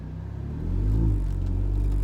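A supercharged Mini Cooper S R53 begins a third-gear pull from about 2,000 rpm, its engine rumble swelling up after a brief quieter moment and holding a steady, close drone.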